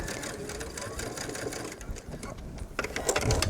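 A home sewing machine stitches about an eighth of an inch along a V-neck facing, securing the seam allowance: a steady close mechanical whir with rapid needle ticking, briefly pausing, then speeding up, with a voice faintly underneath.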